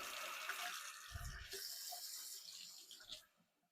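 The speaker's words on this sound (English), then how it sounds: "So we fill this up with some water." Tap water runs steadily into a plastic spray bottle as it fills, a continuous hiss with a couple of brief knocks. The flow stops near the end.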